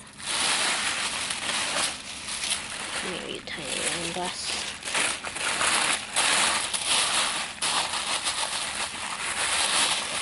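Tissue paper crinkles and rustles steadily as an item is wrapped by hand, a close, continuous papery texture running under a person talking throughout.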